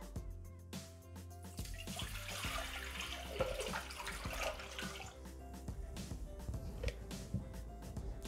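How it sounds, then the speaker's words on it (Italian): Water is poured into the bowl of a Thermomix (Bimby) kitchen machine while steamed rice with vegetables is prepared, a soft, steady trickling and splashing that runs continuously and quietly throughout. "Mettiamo all'interno del boccale l'acqua."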